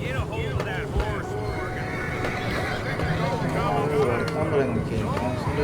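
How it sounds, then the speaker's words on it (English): A horse neighs and whinnies in Red Dead Redemption 2, with hoof clip-clops and voices talking over it amid a busy game soundscape. "Get a hold of that horse."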